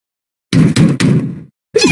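Three quick, loud knocks hit a door in a Twirlywoos cartoon, then a short pause and another knock.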